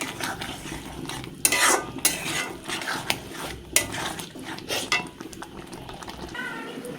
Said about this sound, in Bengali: একটু নেড়ে চেড়ে নিয়ে জল দিতে হবে না